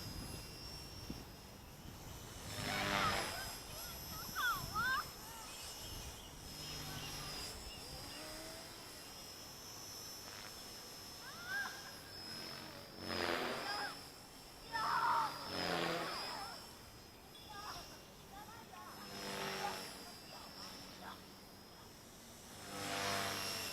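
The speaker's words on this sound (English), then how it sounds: "I reckon the new vertical gyro board definitely flies better than the old board." A WLtoys V950 RC micro helicopter with a custom main rotor head and blades flies nearby, a steady high-pitched motor whine that rises and falls as it maneuvers, with occasional faint voices.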